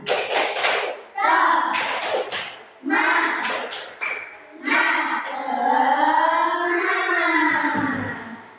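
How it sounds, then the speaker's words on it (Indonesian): Children in an Indonesian religious-education classroom do the rhythmic 'tepuk semangat' spirit clap, sharp group claps landing between loud chanted voices, close and lively, with the chant stretching into a long sung phrase near the end. "kita melakukan tepuk semangat"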